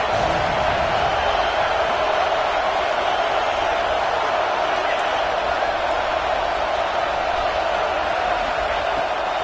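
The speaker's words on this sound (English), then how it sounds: "how nice is it to have the home crowd going absolutely bananas?" A home crowd roars loudly and steadily at a football game, a dense, continuous wall of cheering with no breaks.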